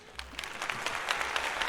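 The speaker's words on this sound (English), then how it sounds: "Brooke, give me a clap." Short canned applause sound effect triggered from a button, a faint, brief patter of clapping hands that lasts under two seconds.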